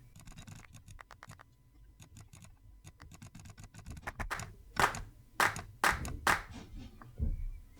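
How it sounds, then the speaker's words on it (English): Sampled claps and finger snaps from a free FL Studio sample pack, played one after another as short dry hits. Faint quick snaps at first give way to louder, punchier claps at irregular intervals. "it has like 100 claps and snaps"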